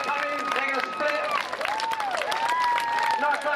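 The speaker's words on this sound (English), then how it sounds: "Nice round of applause for them." A crowd at an air show claps for the team, scattered applause beneath a voice talking over a loudspeaker with tonal whistling sounds.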